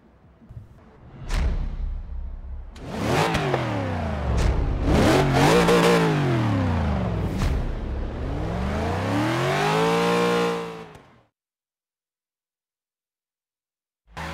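A 2002 Chevrolet Corvette Z06 V8 revs hard and accelerates, with rising and falling engine sweeps through several gear changes, loud and close. It cuts off abruptly near the end, followed by silence.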